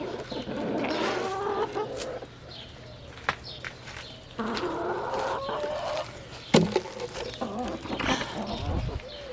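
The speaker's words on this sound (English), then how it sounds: "I'm one-handed because I'm holding a chicken." Backyard chickens clucking and calling close by in a garden, a busy run of repeated clucks and squawks with brief pauses and occasional louder outbursts.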